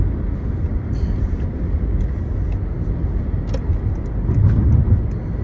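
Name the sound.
big truck driving past on a narrow road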